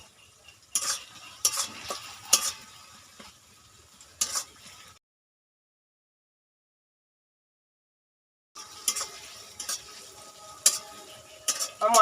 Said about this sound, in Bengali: মশলাগুলো একটু কষানোর জন্য